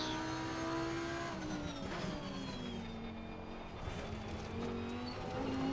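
A race car in a video game, its engine droning and shifting pitch as it accelerates through a corner, with a brief tire squeal, loud and close with no voices.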